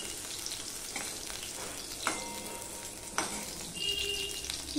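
Frying in oil in a pan for a thin katla fish curry with potatoes and eggplant: a continuous close sizzle with a few sharp stirring clatters and brief metallic scrapes.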